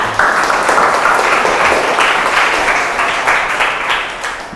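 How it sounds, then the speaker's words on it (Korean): Lecture hall audience at a science talk in Daegu clapping to welcome the speaker, a loud, close burst of applause that runs steadily and fades slightly at the close. "그럼 박수로 강연 들어보도록 하겠습니다"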